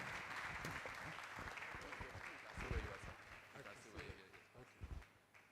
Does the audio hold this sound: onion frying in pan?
no